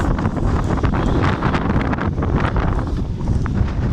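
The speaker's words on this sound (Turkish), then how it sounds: "Çok rüzgar var." Strong wind in cold, overcast weather at Şarköy, Turkey, buffets the microphone in a loud, continuous roar with gusty surges and rustling, no voices.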